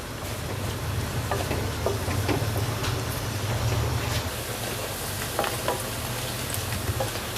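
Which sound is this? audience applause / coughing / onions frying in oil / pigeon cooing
onions frying in oil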